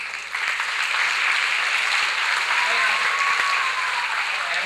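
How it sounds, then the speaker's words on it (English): An audience at a baseball hall of fame induction banquet breaks into applause and cheering, a dense, steady clapping that swells quickly and holds strong from start to finish. "Give me another cheer."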